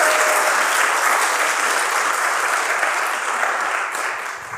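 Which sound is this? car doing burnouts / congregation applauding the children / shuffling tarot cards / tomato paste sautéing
congregation applauding the children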